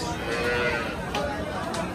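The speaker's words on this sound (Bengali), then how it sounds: "ছোট ছোট বাছুর আছে এখানে।" Cattle lowing at a busy livestock market in Hazratpur, Bangladesh, where Friesian cattle and small calves are for sale; the moos come from close by over a constant murmur of crowd noise.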